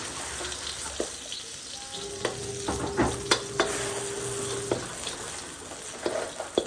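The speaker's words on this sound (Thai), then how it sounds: "กระเทียมกับน้ำมันหมูหน่อยนึงสิพัด" Garlic fries in pork lard with a steady crackling sizzle, while a utensil stirs it now and then, giving scattered scrapes and clicks, close up.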